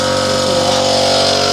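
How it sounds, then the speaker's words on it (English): An air compressor runs loudly and steadily nearby in a workshop, a constant motor drone with a mechanical hum and no pauses, heard alone in a short burst. "That was just the air compressor, sorry."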